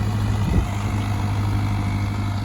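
A tractor engine idles nearby with a steady, low, even rumble and a faint bump about half a second in; no one speaks.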